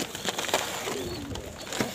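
Pigeons on a rooftop loft coo softly, one low, faint coo half-buried in a steady hiss of background noise.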